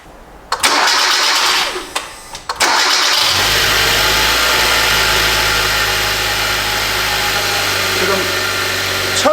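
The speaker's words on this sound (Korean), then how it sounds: "시동 한번 걸어볼게요." A Hyundai Avante MD GDi with an engine knocking problem cranks and starts on its first cold start of the day after sitting parked overnight, then settles into a loud, steady idle that continues close by.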